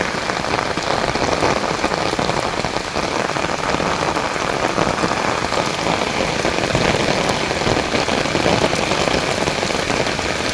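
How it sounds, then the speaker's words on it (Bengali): Heavy rain pours steadily and loudly, a dense, unbroken hiss of drops pattering on surfaces throughout, with no voices. "প্রচুর বৃষ্টি, প্রচুর।"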